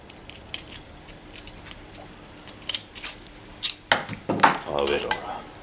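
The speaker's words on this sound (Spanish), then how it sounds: "con las tijeras le voy a quitar un poquito en diagonal" Scissors trim sandpaper diagonally while the paper is changed on a flattening tool in Spanish guitar making, a string of crisp close snips that grows louder and denser toward the end.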